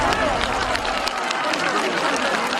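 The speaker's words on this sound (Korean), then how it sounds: "자, 박수로 환영해 주십시오." A studio audience applauding to welcome a singer on a Korean TV show stage, dense continuous clapping mixed with crowd noise, loud and steady for the whole moment.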